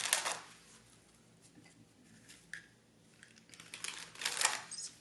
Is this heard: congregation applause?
no